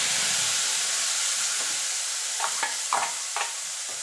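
Ginger, garlic and green chilli paste hits leftover fish oil with a loud, steady sizzle and hiss up close, joined by a few soft stirring scrapes and clinks toward the end.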